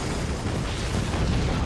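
Cannon shot striking a fort in the video game Forts, a dense continuous rumble of explosions and crashing impacts, loud and steady throughout.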